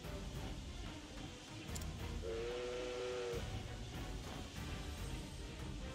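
Steam Tank Obsidian machine in the video game Octopath Traveler 2, giving a steady loud steam hiss with a brief whistling tone in the middle.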